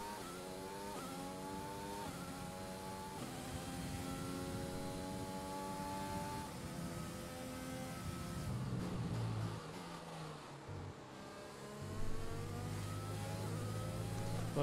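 F1 2020 race car engine in a video game, revving hard and climbing through gears in rising sweeps, loud and continuous with a brief dip before pulling again.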